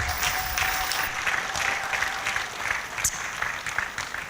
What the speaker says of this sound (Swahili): Makofi kwa Mungu wetu.